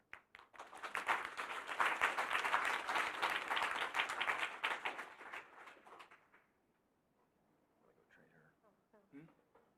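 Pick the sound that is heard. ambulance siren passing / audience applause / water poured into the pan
audience applause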